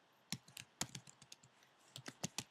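Rapid, uneven keystrokes on a computer keyboard, close and crisp, a burst of clicks that pauses briefly and then resumes, with no talking over it.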